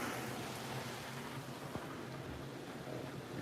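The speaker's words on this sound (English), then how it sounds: "It's raining, it's pouring." Steady rain falls outdoors as a soft, continuous hiss of drops with a few brief low thumps, at a constant moderate level with no talk.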